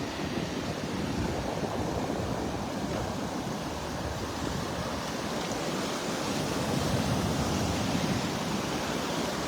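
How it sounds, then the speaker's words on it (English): Ocean waves break steadily on a beach in North Naples, Florida, a continuous broadband wash of surf with gentle swells and faint wind, no voices present. "the waves are fun to watch and listen to"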